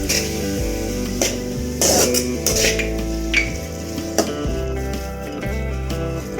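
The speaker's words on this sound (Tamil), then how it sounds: "இப்போ துவரம் பருப்பு வேக வச்சு எடுத்துருக்கோம்ல, இந்த துவரம் பருப்பு போட்டு ஒரு கலரி கிளறிடலாம்" Cooked toor dal being stirred into spinach in a pot, a steady sizzle with repeated scraping and stirring strokes close by, while a low tonal hum shifts underneath.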